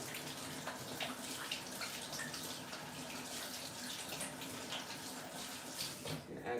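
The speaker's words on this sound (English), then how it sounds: "Let me just wash my hands again." Tap water runs into a kitchen sink while hands are washed, a steady close splashing rush with uneven bursts as hands move through the stream before it stops near the end.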